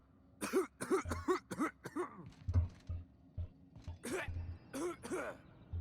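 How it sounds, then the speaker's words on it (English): Characters in The Outer Worlds video game cough and clear their throats in a rapid series of harsh, raspy bursts, about a dozen close together and then a few more, loud and near with faint background hum. "All they do is cough."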